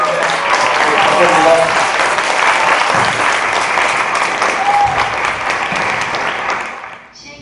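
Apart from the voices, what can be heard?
audience applause for a poet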